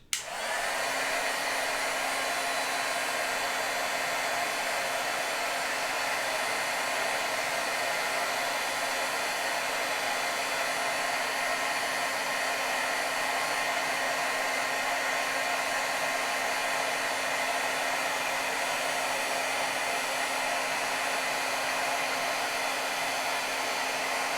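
A heat tool blows steadily on a watercolor greeting card for about 24 seconds, a constant loud whirring hiss with a low hum that never pauses, with no one speaking over it.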